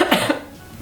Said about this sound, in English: I got this smoker's cough because I ran outside in the cold